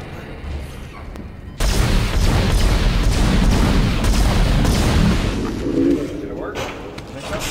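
Gunfire and blasts from the video game Dead Space roar in a dense, continuous wall of loud booms and crackle after a quieter opening, fading somewhat toward the end.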